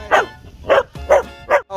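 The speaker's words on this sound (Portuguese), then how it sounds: "Esse é o cachorro da praia, Barão." A beach dog barks four times in an even rhythm, loud and close.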